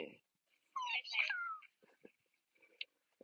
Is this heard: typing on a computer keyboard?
no